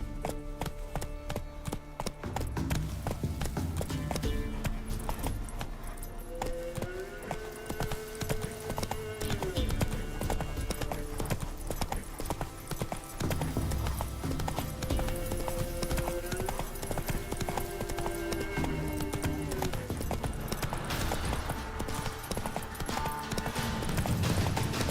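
Hooves of the horse in Witcher 3 clatter in a fast, steady galloping rhythm, close and continuous, with the horse whinnying twice and game music or ambience beneath.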